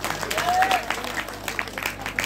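Audience clapping at a Ramlila stage performance in Nainidanda, a steady wash of applause with some voices mixed in, moderately loud and continuous through the short stretch.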